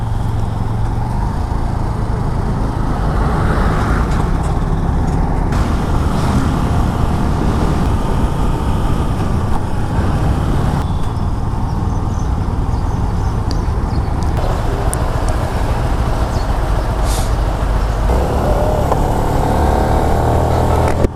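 Motorcycle ride on a highway carrying a passenger, a steady loud engine drone mixed with wind rush and passing traffic for the whole stretch, with no talking.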